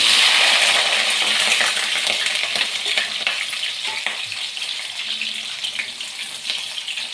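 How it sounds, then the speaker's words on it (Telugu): Chopped green chillies and onions hit hot oil with a loud, bright sizzle that gradually settles, broken by light stirring clatter and scrapes in the pan. "కట్ చేసి పెట్టుకున్న పచ్చిమిర్చి ఆనియన్స్ అయితే ఆయిల్లో వేసుకుంటున్నాను"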